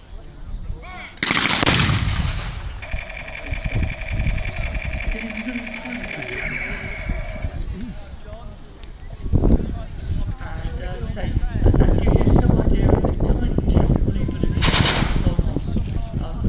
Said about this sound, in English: we'll be firing hopefully a combined volley and artillery fire to finish us off ahead